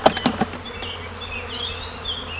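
Honeybee swarm being shaken from a tree into a small hive box, a few sharp knocks or thuds at the start followed by a steady close buzzing of bees with individual insects droning past.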